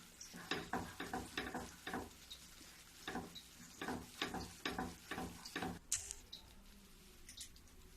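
A spoon scrapes and stirs a thick sesame barfi mixture in a pan with the stove switched off, making repeated rhythmic scraping strokes, close and clear, with a brief metallic clink near the end and no talking.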